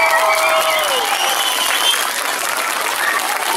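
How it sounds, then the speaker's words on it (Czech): Audience at a kindergarten and primary school Advent gathering in Rotava giving a short round of clapping, a dense patter of hands with a few faint whistle-like tones, close and steady. "ale to byl malý potlesk"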